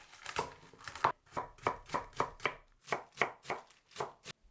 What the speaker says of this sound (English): slice 5 ounces of napa cabbage